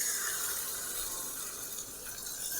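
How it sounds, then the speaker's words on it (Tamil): Tamarind water poured into a pan while making Tamil-style ginger curry, a steady continuous liquid splash and trickle lasting throughout, close and alone with no talk. "இப்போ நம்ம இந்த புளி கரைச்சலை இதில் ஊற்றிடலாம்"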